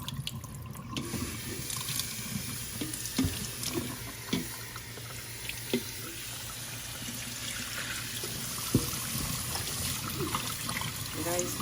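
Sorrel being washed in a container of water, a steady trickling and splashing wash of liquid running through the clip with occasional small knocks, while a person talks over it.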